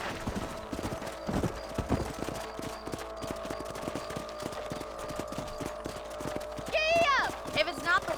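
Horse hooves clip-clop in an even walking rhythm throughout a Red Dead Redemption ranch patrol, close and clear, with a brief neigh near the end.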